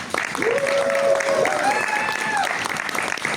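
Applause from an audience at a furry convention hall in Norway, a broad steady clapping wash lasting a few seconds with whistle-like tones and voices over it.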